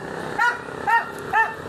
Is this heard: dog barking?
yes